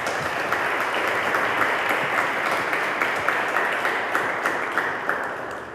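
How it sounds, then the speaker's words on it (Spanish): At a book presentation, an audience gives a steady round of applause, with even, continuous clapping at close range throughout. "un aplauso para él"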